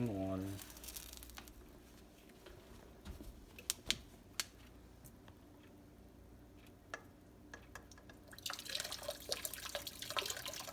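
Boiling water poured into a container during a physical science lab demonstration, a faint, close trickle with scattered drips and small clinks, steady and quiet, swelling toward the end.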